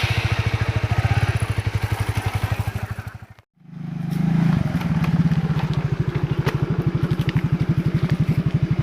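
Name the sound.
motorcycle being started and running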